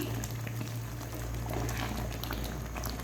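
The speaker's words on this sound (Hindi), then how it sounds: "बस मैं इसको थोड़ा सा और घोटा लगाऊंगी।" Thick chicken haleem of meat, grains and spices is stirred and mashed in a pot, with steady bubbling and soft churning squelches running continuously up close.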